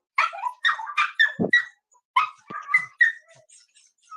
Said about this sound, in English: Little dog barks.